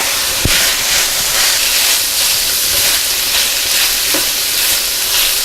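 Beef and onions for a Philly cheesesteak sizzle steadily in a hot pan, a loud, continuous frying hiss broken by a few sharp clinks from stirring.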